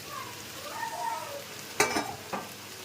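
Tiger prawns fry in hot spiced oil with a soft, close sizzle. A few louder clatters of stirring or prawns dropping into the pan cut through near the end.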